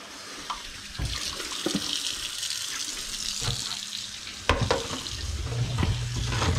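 Tap water running and splashing in a sink during house cleaning, a steady close rush with clunks and knocks of items being rinsed, and a louder burst of flow near the end.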